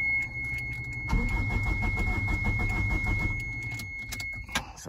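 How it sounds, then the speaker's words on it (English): Starter cranking a K20Z1 engine swapped into a Toyota MR2, a close mechanical whirring and churning that begins after a second and runs steadily for about three seconds before fading, with faint jingling. "got the starter to work"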